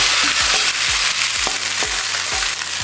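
Chicken frying in a pan sizzles loudly and steadily, with a spatula knocking against the pan in regular stirring taps throughout, no voices over it.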